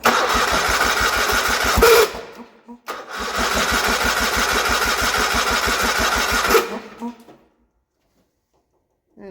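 Engine of a 1980 John Deere 317 tractor running, a loud close rhythmic chugging that cuts out briefly, restarts and runs for several seconds, then dies away into silence.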